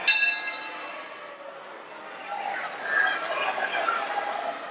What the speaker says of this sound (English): So the bell sounded.